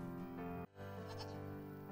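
Goats bleat in the farm-simulation game Farm Manager 2021, with a layered, sustained bleating and a brief gap partway through before the calls resume, fairly loud throughout.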